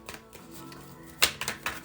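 Tarot cards are shuffled by hand: a short run of crisp, clicking riffles and snaps, close and fairly loud, with a quick cluster near the end.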